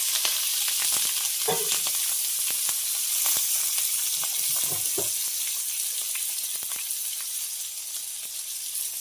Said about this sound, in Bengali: কড়া কড়া করে ভাজা, কিন্তু পেঁয়াজ, রসুন, লঙ্কা দিয়ে দিলাম